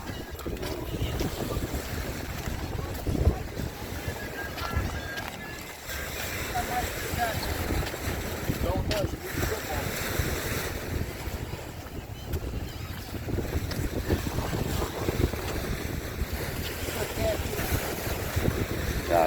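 Sea washing against the shore at Sylvan Beach Park, La Porte, Texas, under gusty wind buffeting the microphone, with a person talking over the steady roar.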